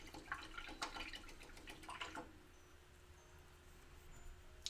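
A paintbrush is swished and rinsed in water, giving a couple of seconds of close, splashy dripping and sloshing that stops abruptly and leaves quiet room tone.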